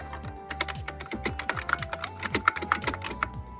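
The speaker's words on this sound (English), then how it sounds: "Original IBM Model M keyboard." Rapid clicky keystrokes on an original IBM Model M buckling-spring keyboard, a dense irregular patter of sharp close clacks with no talk over it.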